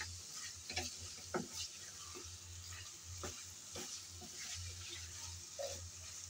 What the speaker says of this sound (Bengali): আমি অনবরত এভাবে 3-4 মিনিট ধরে নেড়ে চেড়ে কষিয়ে নিলাম